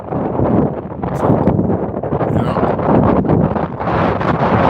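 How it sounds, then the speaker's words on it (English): Loud gusting wind roars and rumbles against the microphone throughout, surging slightly in waves, with no clear speech. "I know it's windy."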